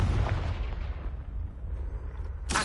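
Confringo blasting spell in Hogwarts Legacy, a heavy booming explosion that rumbles and fades over a couple of seconds, ending with a sharp new burst.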